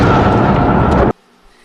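A gunshot in a played-back clip lands as a single heavy, close blast that holds for about a second and then cuts off abruptly into near silence.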